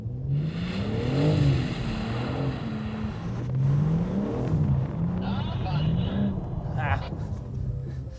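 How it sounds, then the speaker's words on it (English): A car engine revs in first gear during drift practice, its tone repeatedly climbing and dropping in close, continuous surges. "I'll start again in first gear and practice initiating the drift once more."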